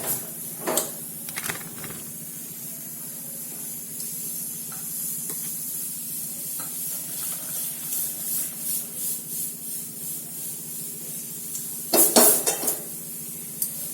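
Boiled pasta and tomatoes are tipped into a strainer in a home kitchen. Hot water hisses and splashes through, and metal pots and utensils clink at intervals, with sharp clatters near the start and again toward the end.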